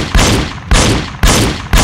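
Four loud, evenly spaced gunshots from a Wii light gun shooting game, each a sharp blast with a short decaying tail, heard alone with no talking.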